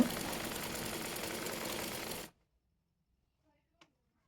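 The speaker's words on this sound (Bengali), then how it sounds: "আর হাতাটি মুড়িয়ে সেলাই করে নেব।" A sewing machine stitches a child's sleeve hem with a steady, close mechanical whir for about two seconds, then stops abruptly. Near-silence follows, with one faint tap.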